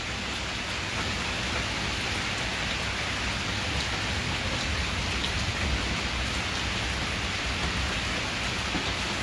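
Heavy thunderstorm rain in Islamabad pours down in a steady, dense roar, close and loud throughout, with no break in the downpour.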